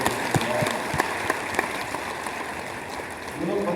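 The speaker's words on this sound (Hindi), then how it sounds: "एक बार अपने आप के लिए जोरदार तालियां" Dense clapping from an audience of about 280 people at a Modicare network marketing meeting, moderately loud and steady with scattered sharper claps throughout.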